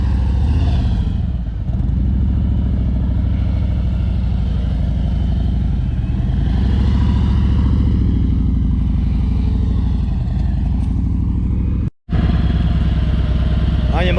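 A motorcycle engine hums and revs near the microphone as a rider works through a low-speed training course of tight circles, with a voice talking over the steady engine drone.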